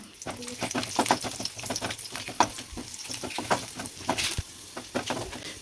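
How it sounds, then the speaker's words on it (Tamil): Garlic and tamarind sizzle and crackle in hot oil in a pan while being stirred for appalam chutney, close crackling with scraping strokes under a voice talking. "இந்த பூண்டையும் இதில் வறுத்துக்கலாம் அதோடி அந்த கொஞ்சமாக புளி எடுத்துருக்கேன் அதையும் இதில் சேர்த்து வதக்கிக்கலாம்"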